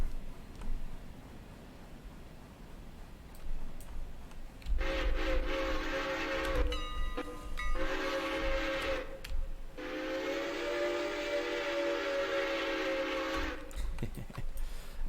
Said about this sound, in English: Just some good old whistle play.